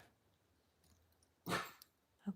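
Pet dogs on alert bark indoors: a single loud, sharp bark rings out, followed by a shorter softer yelp, against a quiet room.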